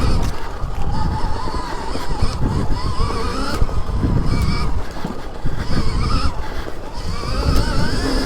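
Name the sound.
Stark Varg electric dirt bike accelerating on throttle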